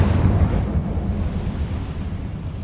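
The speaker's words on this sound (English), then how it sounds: "Incendio!" Incendio fire spell from Hogwarts Legacy: a dense, roaring whoosh of flame that flares loud at the start, then settles into a sustained rumbling burn with low crackle, steady for a couple of seconds and with no voices over it.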